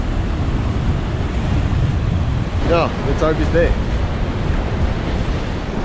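Surf breaking at the edge of a drop-off on a rocky fishing shore, a steady broad wash of waves and wind noise throughout, with brief voices talking near the middle.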